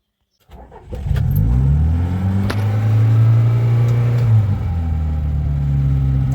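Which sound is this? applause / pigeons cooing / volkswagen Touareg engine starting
volkswagen Touareg engine starting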